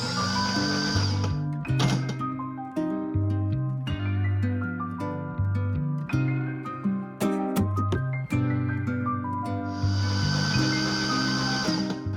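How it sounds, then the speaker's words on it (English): With the spark plugs removed, an engine is cranked over by its starter to build oil pressure, giving a steady, whirring, tonal churn that rises and dips in rhythmic pulses and plays alone. "Today I just want to turn this over until we have some oil pressure"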